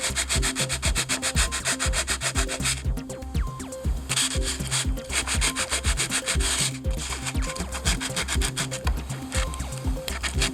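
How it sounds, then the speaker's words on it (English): Sandpaper is rubbed back and forth against a sharp nail protruding from a polycarbonate bending brake, producing a steady, close, gritty scraping rhythm with brief pauses between passes. "take the sandpaper and go up against that nail"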